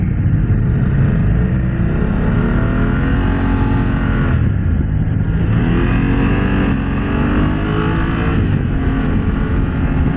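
Steady engine drone from a BMW F 900 GS Adventure motorcycle on the move, loud and continuous throughout with smooth rises and falls in revs and no talking.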